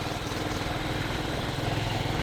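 A motorcycle on a long ride is ridden along a rough road, its engine throbbing loud and constant with wind noise and no breaks in sound.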